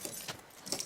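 Keys on a rebel jangle in the video game Horizon Forbidden West, a brief, close metallic rattle with a couple of bright chimes, heard over a steady game ambience.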